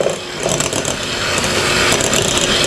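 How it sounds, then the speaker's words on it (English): An electric hand mixer beats room-temperature cream cheese for red velvet truffles, giving a close, steady motorized whir with slight rattling fluctuations throughout. "Kind of mix it with your mixer"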